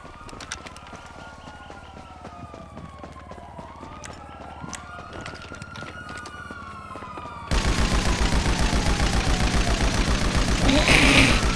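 Police sirens wail and sweep in GTA Online, then give way to a loud, dense, continuous burst of rapid gunfire that runs to the end.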